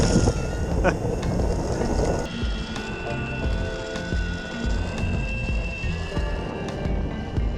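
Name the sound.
lead-acid electric skateboard motor at full throttle climbing hill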